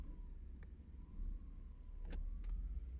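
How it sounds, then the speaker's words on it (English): A KITT Firebird Trans Am idles in park on a flat surface, a low steady engine rumble close by, broken by a few brief clicks and knocks. "while the car is running in P on a flat surface."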